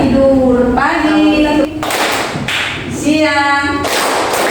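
Children in a sixth-grade classroom clap in bursts of sharp, close thuds, each burst set between a teacher's sung or chanted voice and the class answering in unison.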